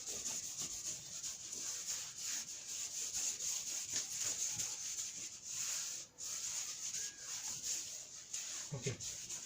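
Steady rubbing of an eraser or duster wiping writing off a board, a continuous dry scrubbing that runs almost the whole time with a brief pause near the middle.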